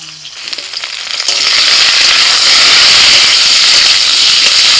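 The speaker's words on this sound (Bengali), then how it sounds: "ওলকপি কিছুক্ষণ ভেজে এবার আলু দিয়ে দিচ্ছি" Potatoes dropped into kohlrabi already frying in hot oil set off a loud, close hiss that surges after a quieter start and holds as a strong, steady sizzle.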